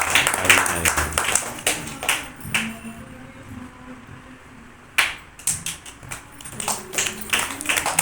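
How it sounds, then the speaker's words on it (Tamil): An audience claps for a yoga performance at a Navaratri festival, a scattered patter of hands that thins to a lull midway and then picks back up, fairly close. "கை தட்டுங்க, நல்லா கரவொலி எழுப்புங்க."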